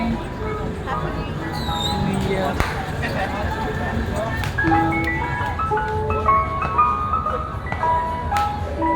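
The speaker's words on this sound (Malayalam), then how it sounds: "ഇതാണ് ഇവിടുത്തെ ഐസ്ക്രീം വണ്ടി" Ice cream van chimes at Grand Baie beach in Mauritius on New Year's night, a bright tinkling melody of repeated notes over a busy crowd murmur and voices.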